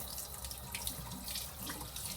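Meat is rinsed under a running kitchen tap, a quiet, continuous splashing of water into the sink with faint trickles and drips throughout.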